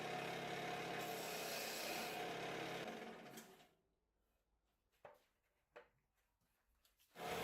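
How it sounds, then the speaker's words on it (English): A wood lathe parting tool cuts a tenon on a bowl blank with a continuous loud scraping whir that fades out after about three seconds, followed by a few faint knocks. "I use the parting tool to create a tenon"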